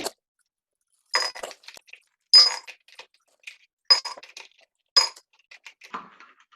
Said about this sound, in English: I got a not so tall glass that I'm going to fill up with ice